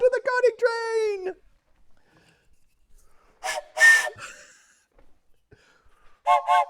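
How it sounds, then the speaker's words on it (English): A custom laser-etched whistle is blown in two short, shrill bursts separated by quiet, following a stretch of someone talking at the start. "This makes an amazing sound, but this is a custom laser etched whistle."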